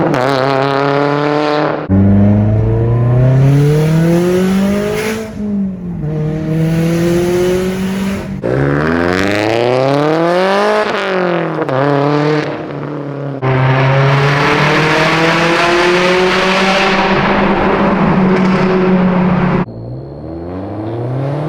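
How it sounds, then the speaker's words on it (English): Subaru STI with an external wastegate and loud exhaust, engine roaring hard through rising and falling revs over several gear changes, very loud and close with rasping, whooshing bursts from the open wastegate. "When you finally get going and the external wastegate opens, it is just insanely loud"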